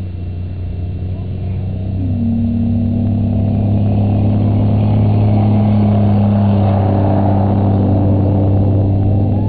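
A white Ford F-150 pickup truck engine drones loudly and steadily, with its pitch climbing and holding higher after a couple of seconds, as if revving under load at an outdoor farm event.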